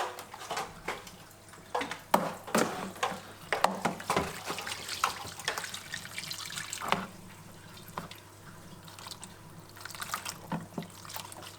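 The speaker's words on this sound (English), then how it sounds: "I'm going to use just a normal siphon hose, and I'm going to use the old suck, pinch and pull method" Water from a reef aquarium drains through a normal siphon hose into a bucket, giving an uneven run of splashing, trickling and dripping bursts at close range.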